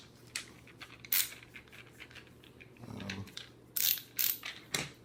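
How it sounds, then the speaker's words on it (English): A Channellock ratchet screwdriver clicking in short bursts, quiet close-up mechanical ticks spaced irregularly with brief pauses between turns. "this is my channel lock ratchet screwdriver"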